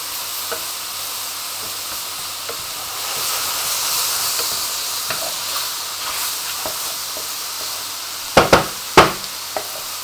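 Garlic and onion sweat in a pan beside browned mushrooms, giving a soft, steady sizzle and hiss close up, with a few sharp utensil knocks against the pan near the end.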